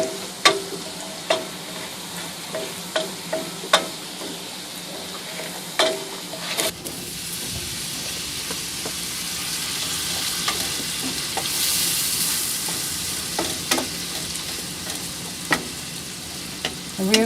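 Pineapple and shrimp sauteing in a pan aboard a sailboat: quiet ticking stirs at first, then a loud continuous sizzle with scattered sharp clicks of utensils, no speech.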